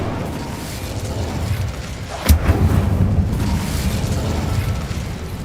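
Hogwarts Legacy video game's Incendio fire spell cast with a sudden whooshing burst and boom, followed by a crackling rumble over steady game ambience.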